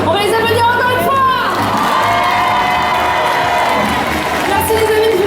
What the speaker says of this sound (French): On va les applaudir encore une fois!